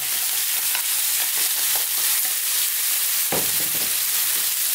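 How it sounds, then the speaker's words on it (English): Chunks of beef chuck frying over high heat in a hot pan, a dense sizzle broken by repeated stirring scrapes and one sharper clatter partway through, close and loud. "And on this high heat, let's just throw this around in the pan for about 4 minutes"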